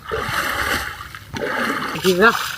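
A person jumps into water to swim while out fishing, giving a brief close splash amid outdoor ambience, with voices talking and exclaiming around it.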